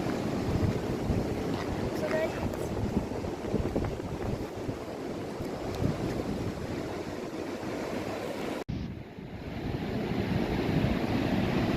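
Sea waves at high tide on Alibag beach near Kolaba fort, a continuous broad wash of surf and wind buffeting the microphone, with a brief dropout near the end before the roar resumes.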